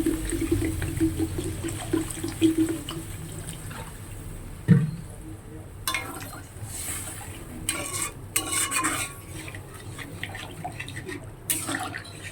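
Fish curry broth is poured into a pan for a thin katla fish curry, giving a watery rush and hiss, a sudden splash, then scattered clinks and bubbling stirs close by.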